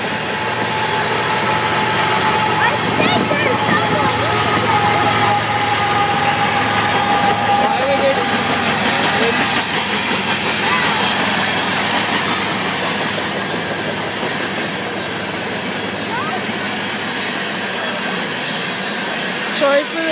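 A southbound Canadian Pacific mixed freight train, long with a mid-train locomotive, rolls past on rails in Airdrie, Alberta, a steady loud rumble and clatter of cars with a faint wheel squeal, people talking over it.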